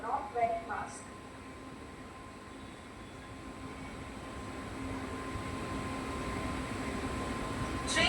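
A local train on the Howrah–Amta line rumbles steadily, its low noise swelling gradually toward the end, with brief faint voices at the start.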